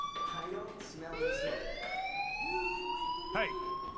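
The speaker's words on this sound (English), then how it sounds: "Hey, do you hear that fire alarm?" An electronic fire alarm sounds inside the video game Life Is Strange, its bright wavering tones rising and sustaining over several seconds against a low background hum.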